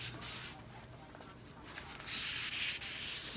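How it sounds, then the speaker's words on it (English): Dark wax rubbed by hand into a wooden china cabinet and its grooves, a close, steady scratchy rubbing that grows louder and harsher toward the end. "Waxing into the grooves is where I'll be leaving a lot of that dark wax behind."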